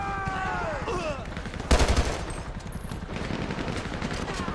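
Gunfire in GTA 5 with the LSPDFR police mod: a short burst of rapid, loud shots in the middle, with scattered smaller pops and background game noise on either side.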